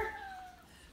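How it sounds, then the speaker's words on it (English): A pet cat gives a single short meow that falls in pitch and fades, heard close by in a quiet room. "There's our kitty."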